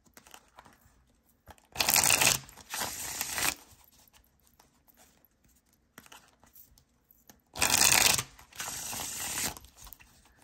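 An iN2ITarot Contra Versa tarot deck being shuffled, heard as two pairs of crisp, papery card bursts, each about a second long, separated by quiet pauses. The cards sound close and fairly loud, with no talking.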